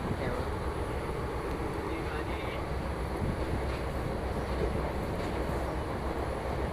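Koyna Express train running at speed between Pune and Kolhapur, heard from inside as a steady, loud broadband rumble and rushing roar with a faint rhythmic clatter throughout.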